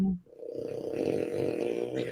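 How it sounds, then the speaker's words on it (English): Snoring carries on through most of the moment, a low rumbling drone that pulses slightly and stays steady and fairly close after a brief sound at the start. "the snoring is getting louder"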